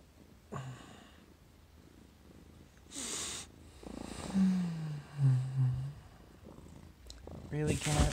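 A house cat purrs close by in short low bursts, breaking in among a woman's spoken words at intervals.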